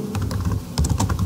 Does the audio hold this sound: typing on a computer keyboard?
yes